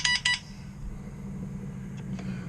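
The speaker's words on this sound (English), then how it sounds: "My daughter's sending me text messages." A quick pair of electronic phone text message notification beeps at the start, outdoors on a windy day, then a soft faint tone later over low background hum.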